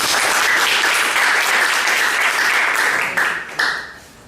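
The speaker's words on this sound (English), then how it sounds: "I want you guys to give a big round of applause for Jason Matthews." A seminar audience applauds loudly and steadily for about three seconds, then the clapping thins out and trails off with a final burst before fading.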